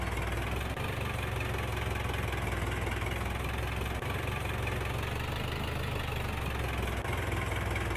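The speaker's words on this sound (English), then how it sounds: "The engine dying." A tractor engine in the Farming Simulator 22 video game labours and bogs down, giving a steady, dense low drone with faint periodic knocks, continuous and even throughout with no talk.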